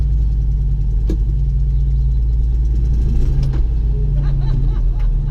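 A moped engine rumbles steadily at low pitch, pulling away with a few faint clicks and knocks over the continuous drone.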